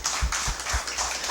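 A church congregation applauds during a worship service, giving a short burst of brisk, rhythmic clapping with a few heavier thumps, loud and close, with no voices over it.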